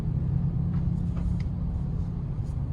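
Steady low engine rumble and road noise come from a 2022 Nissan Almera N-Sport VL Turbo cruising around 40 km/h at about 1,200 RPM, heard from inside the car with no voices.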